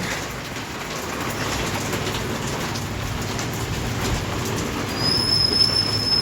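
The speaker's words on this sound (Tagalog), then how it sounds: "Wala pong tigil ang ulan." Steady rain hiss with a low rumble underneath, continuous and fairly loud, with a faint high whine near the end.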